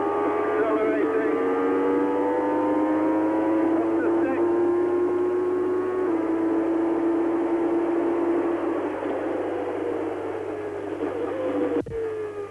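A Formula One race car at the 1994 French Grand Prix accelerates flat out through the gears. Its loud, continuous engine whine climbs steadily in pitch, and the note shifts at gear changes.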